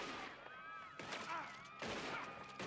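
Gunfire in Red Dead Redemption 2, a few sharp shots and bursts ringing out amid game music tones and ambient noise, moderately distant.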